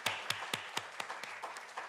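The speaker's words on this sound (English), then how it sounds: "Let's give ourselves a big round of applause" A handful of people at a coding training event clap slowly and unevenly, about a dozen distinct claps in under two seconds, fairly faint and growing softer.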